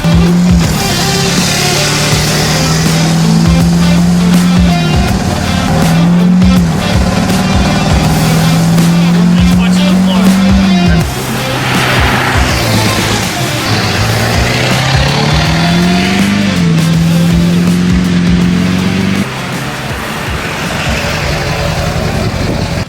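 A worn Chevrolet Avalanche diesel pickup truck with a Duramax engine, used as a farm truck, drives close by, its loud engine rising in pitch and dropping back through several gear shifts.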